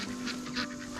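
Ducks honk and quack on a farm pasture shared with grazing cows, a few calls rising over steady outdoor background noise at moderate distance.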